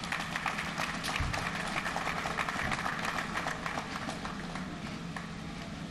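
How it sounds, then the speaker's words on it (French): Guests at an official inauguration ceremony applaud in a steady, dense wash of clapping that continues evenly throughout, somewhat distant and reverberant. "Sous vos applaudissements."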